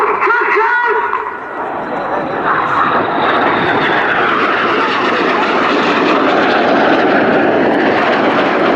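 A Red Arrows jet in a low display pass at the Royal International Air Tattoo, Fairford, roars loud and near, its engine noise swelling and sweeping across the sky.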